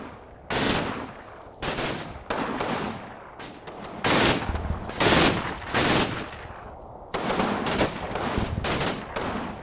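Battle sounds from the WWII tactics game Combat Mission: Final Blitzkrieg, with bursts of rifle and machine-gun fire and sharper rifle-grenade blasts coming in separate clusters, loud and close, with short pauses between volleys.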